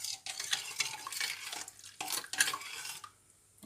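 A metal utensil stirs and scrapes inside a stainless steel saucepan, with quick bright clinks and scraping strokes in bursts, close and fairly loud, no talking.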